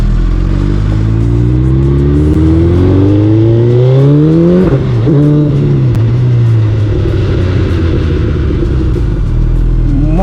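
A 2024 Suzuki Hayabusa motorcycle accelerates hard, its loud engine pitch climbing steadily, dipping briefly at a gear change midway, then rising again close to the listener.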